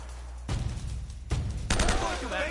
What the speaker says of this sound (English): Is that gonna kill me if he shoots it again?